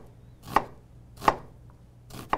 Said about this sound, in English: Let the tip of the knife never leave the board, and just slice into the onion.